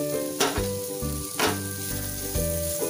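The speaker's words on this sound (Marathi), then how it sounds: "लसूण परतून झाल्यावर त्याच्यात बारीक चिरलेला कांदा घालायचा।" Finely chopped onion frying with garlic in a pan, giving a steady close sizzle with a few brief stirring scrapes and no talking.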